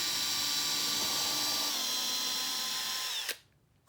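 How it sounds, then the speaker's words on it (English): A power drill whines steadily at high speed boring a pilot hole for a carpenter bee trap, its pitch dipping slightly as it bores, then stops abruptly, leaving quiet room tone. "And then he's going to drill a pilot hole."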